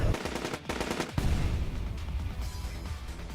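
Rapid gunfire in the video game AI: The Somnium Files, a dense burst of loud shots filling the scene at close range, with no talking over it.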